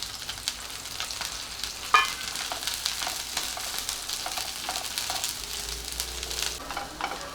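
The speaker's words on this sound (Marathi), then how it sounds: "हा कांदा आपल्याला छान लालसर होईपर्यंत परतून घ्यायचा आहे" Sliced onion with two green chillies sizzles steadily in a pan for a Marathi methi matar malai dish, a continuous bright frying hiss with stirring scrapes and one sharp clink of a utensil partway through, no voices.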